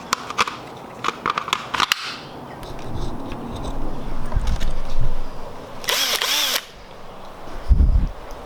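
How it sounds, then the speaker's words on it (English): A cordless drill whirs in short bursts, then grinds steadily through a plastic front splitter on a 2017 Honda Civic Si, with clicks and handling clatter around it, close up. "we're going to drill into the splitter itself"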